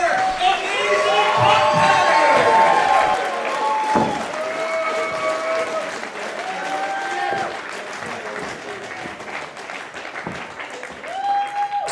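A wrestling crowd at a Lions Club show in Burlington applauds and cheers for a steady stretch, with shouts and whistles over the clapping while an announcer's voice carries across it.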